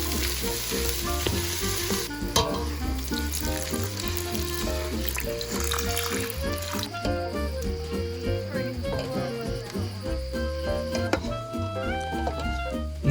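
Etouffee with garlic, Creole seasoning, paprika and Worcestershire sizzling in a pan at an overlanding camp in Bald Eagle State Forest, a constant close frying crackle with occasional stirring scrapes.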